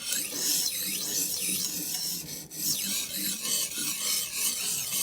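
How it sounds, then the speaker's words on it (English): A blade being drawn back and forth on a knife sharpener while the burr comes off, giving a coarse, rough rasping scrape in repeated close strokes with no talking. "now you're going to hear the burr being removed, and it's going to be a much coarser, much rougher sound to it"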